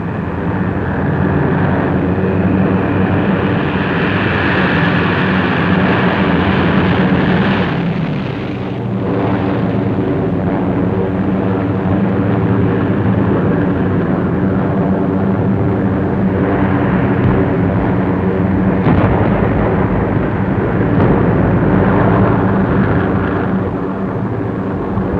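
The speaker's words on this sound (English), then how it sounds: "Again on the morning of July 25th, the planes came" Waves of WWII bomber aircraft roar overhead on a July morning, a loud, continuous rumbling drone of many engines swelling and shifting over about twenty-five seconds, with no voices.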